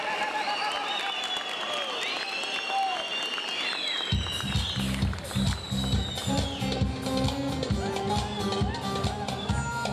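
Applause for a guest invited up at a citrus festival in Dörtyol, a dense crowd clapping that runs on with cheers, then shifts into loud rhythmic drumming and music over the clapping.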